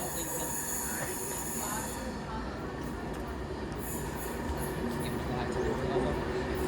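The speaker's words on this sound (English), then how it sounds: "It's the Ryman train, 390-045, Birmingham Pride." Class 390 unit 390-045, the Birmingham Pride train, running into platform 6 at Stafford station, a steady loud rumble of wheels and motors with brief squeals and hiss, close by and continuous, with faint talk in the background.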